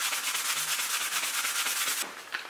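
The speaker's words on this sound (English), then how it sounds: "So after a good amount of sanding, I got most of it off" Steady scratchy rubbing of sandpaper removing paint from aircraft leather upholstery, continuous back-and-forth strokes close up, shifting to a brighter, harsher rasp near the end.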